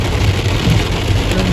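Steady rain pours down outdoors in Abruzzo, a dense, even hiss that stays close and continuous with no voices over it.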